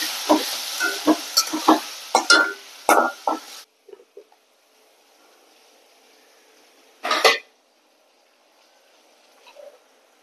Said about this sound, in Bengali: পেঁয়াজ রসুন আদা দিচ্ছি, দিয়ে ভালো করে কষিয়ে নিই।